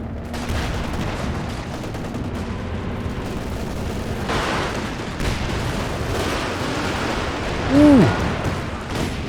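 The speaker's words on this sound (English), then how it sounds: "Double Werfer strike, I think that was there, and all of lockdown sections are dead." Heavy rumbling blasts of a Nebelwerfer rocket artillery strike in the video game Company of Heroes 2, a dense run of booming impacts and gunfire-like crackle on a 4v4 winter battlefield.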